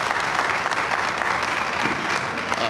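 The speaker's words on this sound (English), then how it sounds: "Let's give this Redan High School band another round of applause." Steady applause from a sizable crowd after a high school band performance, dense and continuous clapping at full volume with no pauses.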